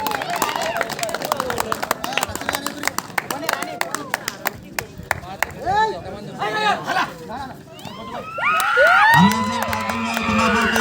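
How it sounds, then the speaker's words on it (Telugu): A crowd at a kabaddi semi-final match, clapping, cheering and shouting loudly through a tense raid, with an announcer talking over the noise and a swelling roar near the end. "అందరూ గట్టిగా చప్పట్లు కొట్టాలి ప్లేయర్స్ ఎంకరేజ్మెంట్ కోసం"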